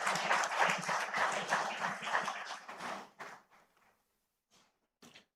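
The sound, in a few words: audience applause welcoming a speaker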